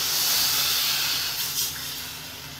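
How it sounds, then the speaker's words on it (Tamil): Water poured onto vegetables frying in masala for kara kuzhambu sets off a loud, steady steam hiss that slowly fades. "வதக்கிட்டு கொஞ்சமாக தண்ணி சேர்த்துருங்க."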